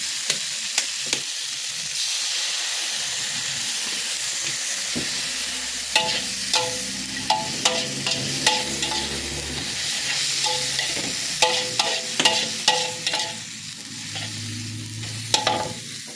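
Glass noodles stir-fried in a pan sizzle and hiss steadily while a utensil scrapes and taps against the pan in irregular bursts, close and moderately loud, with no talking.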